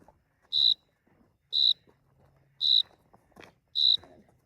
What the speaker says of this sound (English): I think there's a cricket under my phone.